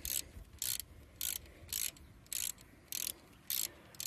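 Brake caliper screws on a Citroen Cactus being loosened with a ratchet: about eight rapid clicking bursts in a steady back-and-forth rhythm, close and fairly quiet, with no talking.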